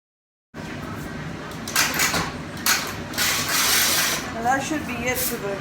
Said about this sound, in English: since my motor's a little bit dirty, I'm just gonna take this air hose